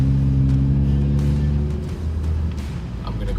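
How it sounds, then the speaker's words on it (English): A 2012 Ford Focus SEL engine fitted with an aftermarket intake idles with a low, steady droning hum, then the tone shifts and rises slightly as it revs, heard up close and continuously. "a lot of the sound that you're hearing is also part of the intake that I've added"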